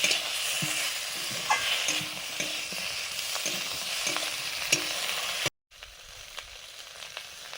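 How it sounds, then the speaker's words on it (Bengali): A spice paste of ground cumin and dried red chili fries in hot oil, sizzling steadily with scattered stirring scrapes, then cuts out briefly before the sizzle resumes more quietly. "বাটা মশলাটা দিলাম এটা আছে জিরে আটা আর শুকনো লঙ্কা"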